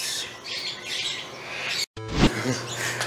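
Birds squawk and chirp over a steady outdoor background, with a short gap of silence midway followed by a louder call and a low steady hum.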